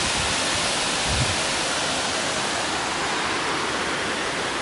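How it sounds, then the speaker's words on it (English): Chiang Mai waterfall seen from the top of a cliff, a loud, dense, unbroken rush of falling water filling the whole clip with no voices. "Chiang Mai waterfall."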